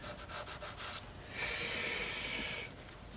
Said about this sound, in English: take a little bit of sandpaper. Just to get it shaped.